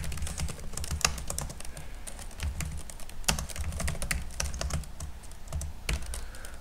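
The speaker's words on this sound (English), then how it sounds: "Let me just type something here." A computer keyboard is typed on steadily while code is written in an editor, with close, crisp key clicks in uneven bursts and a few harder strokes, and no one speaking.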